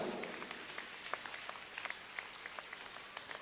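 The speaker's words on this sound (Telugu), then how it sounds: "ఒకసారి అందరు కూడా గట్టి క్లాప్స్ కొట్టిన అందరు కూడా" A congregation at a Catholic novena service breaks into loud, sustained applause, many hands clapping together in a dense, steady wash that carries on without pause.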